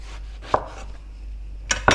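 A knife slices into an eggplant to open a pocket for ravioli: a few crisp, close cuts with soft contact clicks against a board, separated by quiet pauses, no talking.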